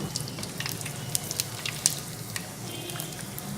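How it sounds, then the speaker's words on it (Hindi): Edible gum (gond) frying in desi ghee in a pan gives a steady soft sizzle with small crackling pops, quiet and close, and no talking. "गूंद ऐड करके इसको घी में फ्राई करें"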